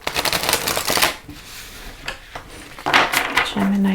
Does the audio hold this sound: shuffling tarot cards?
yes